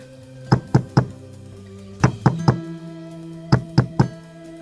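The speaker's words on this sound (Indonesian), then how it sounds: "tiba-tiba ada ketukan pintu dari luar." Knocks on a wooden door from outside in three sets of three firm raps, loud and close, with short pauses between sets over a faint steady hum.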